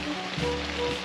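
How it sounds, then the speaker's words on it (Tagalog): Rain falls at a campsite during sunshine, a dense, steady hiss of drops striking surfaces, close and continuous with no voices. "Ayun na naman yung ulan, ligo ulit tayo."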